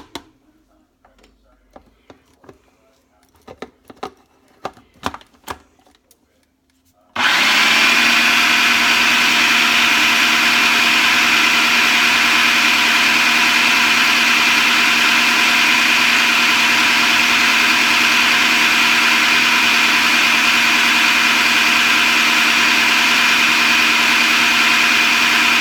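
A kitchen blender or food processor runs steadily, grinding ingredients for homemade hummus after a few quiet clicks and handling sounds; the loud continuous whirring motor drone holds unbroken to the end.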